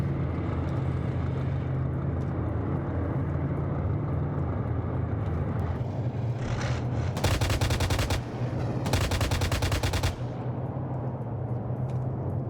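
Two loud bursts of rapid turret gunfire in a video game, each about a second or more long, ring out over a steady low mechanical drone and engine rumble.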